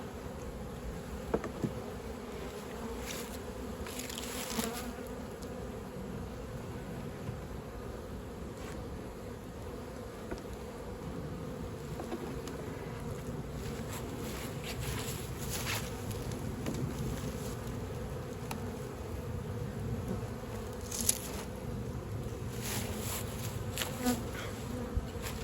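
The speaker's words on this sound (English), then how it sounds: "there's a lot of bees in this one" Bees buzzing inside a beehive that is mostly full, a dense continuous drone from many insects close up with occasional louder passes of individual bees near the microphone.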